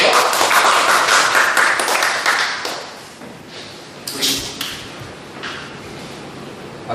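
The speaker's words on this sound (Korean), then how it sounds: "박수로 맞아주십시오." Applause welcoming a speaker at a public lecture and exhibition, a crowd clapping loudly for about three seconds before it thins out into scattered claps and room murmur.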